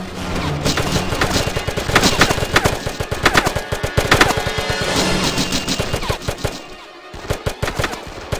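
Mounted machine gun in the video game Brothers In Arms 2 blazing away in long, dense bursts of rapid shots, loud and close, with a brief lull near the end before a few final scattered rounds.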